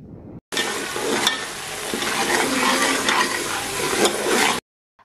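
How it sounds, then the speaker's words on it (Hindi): Steady sizzling of ginger garlic paste frying in hot oil for mutton keema, close and loud, with a few stirring scrapes, then it cuts off abruptly. "अब हम अदरक लहसुन का पेस्ट शामिल करेंगे और इनको हल्का सा फ्राई कर लेंगे"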